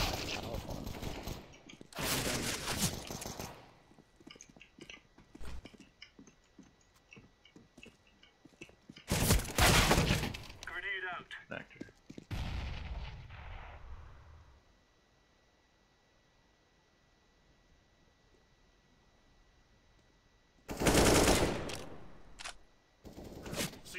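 A grenade blast and bursts of gunfire in a shooter video game, with several loud broadband bangs spread across the clip, a long low rumbling tail, and a quiet stretch before a final loud burst.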